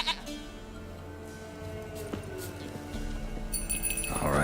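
A goat bleats in The Witcher 3 several times over a steady game soundtrack, close and fairly loud, its wavering cries rising near the end.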